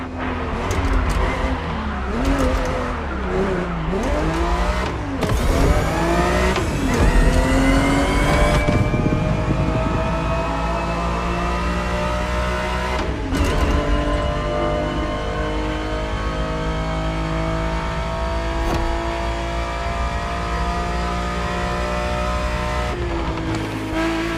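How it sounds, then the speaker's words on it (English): A Ferrari 365 GTB4 racing in The Crew Motorfest roars loudly throughout, its engine revving and shifting through gears with rising and falling pitch, with a brief skid or tire squeal early on and no talk. "The Ferrari 365 GTB4 is the perfect vehicle for you to experience Ferrari racing as it felt back in the 70s"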